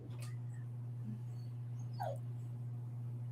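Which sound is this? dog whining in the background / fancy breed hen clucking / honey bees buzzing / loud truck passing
dog whining in the background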